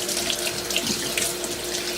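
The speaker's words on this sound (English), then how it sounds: "The way I prepare these is I rinse them off," Steady running water pours from a kitchen tap as sweet potatoes are rinsed under it, a continuous close splashing hiss with slight shifts as the potatoes move through the stream.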